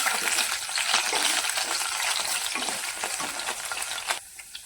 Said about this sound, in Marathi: मनुके परतून घेऊया